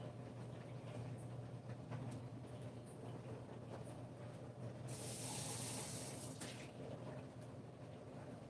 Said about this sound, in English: I'm gonna go rinse my juice cup